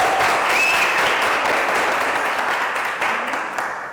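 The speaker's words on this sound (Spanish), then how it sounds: "Quiero que le demos un fuerte aplauso a la diamante Leticia" Strong applause from an audience at an executive closing event, a full burst of clapping with a faint whistle near the start that gradually fades toward the end.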